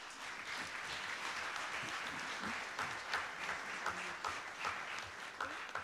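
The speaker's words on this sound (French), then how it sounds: "je vous demande de les applaudir tous, les uns et les autres" An audience applauds steadily, a dense wash of clapping that holds for several seconds, with no voices over it.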